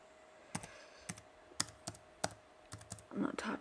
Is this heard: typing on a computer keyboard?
yes